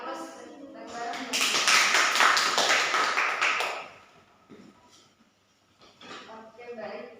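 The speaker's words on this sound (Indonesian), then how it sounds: "Beri aplaus bareng-bareng." A classroom group applauds together in a dense, close burst of clapping that lasts a few seconds and then fades, followed by quieter scattered sounds and some voices.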